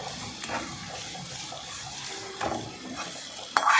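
A spoon stirs through sizzling tempering in a hot pan, soft scraping and crackling close by, with a sharper clink near the end.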